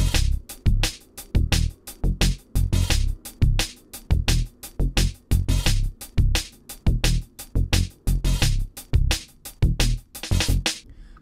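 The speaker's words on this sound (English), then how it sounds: "I have set up a basic drum and bass groove to serve as the starting point for our explorations," A basic drum and bass groove programmed in Native Instruments Maschine, punchy kicks and snares hitting in a steady repeating pattern over a deep bass line, loud and clear with no speech.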